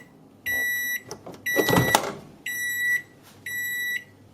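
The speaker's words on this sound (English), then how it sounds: "So I'm just going to pop it in the microwave for about 1 minute." A microwave oven heating a jar of warm wax, giving three loud, evenly spaced electronic beeps, with a clunk of the door or handling sounds between the first and second beep, close by in a quiet kitchen.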